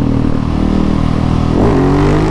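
A loud, close motorcycle engine idles with a steady rumble, then revs up sharply near the end, its pitch rising.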